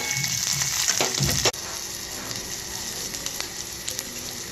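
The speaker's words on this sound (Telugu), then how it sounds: "ఒక గిన్నె పెట్టుకొని తాలింపుకి నూనె కొంచెం వేసుకోవాలండి" Oil tempering with black gram, split chickpeas, cumin, mustard seeds, green chilies and onions crackles and sizzles loudly at close range; the sizzle drops abruptly partway through and then continues more softly.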